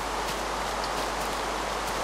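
Steady soft rain from the Minecraft video game, a continuous even hiss of falling drops with no talking over it.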